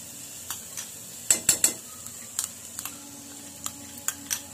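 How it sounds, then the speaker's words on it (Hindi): Carrot halwa being roasted in ghee in a pan, heard as a series of sharp spoon-against-pan clinks and scrapes over a faint sizzle, close and fairly quiet, with irregular stirring strokes and no talk. "तो देखिए मैं इसे लगातार भून रही हूँ"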